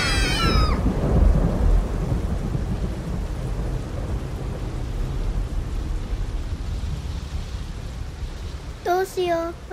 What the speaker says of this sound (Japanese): 大変、雨よ。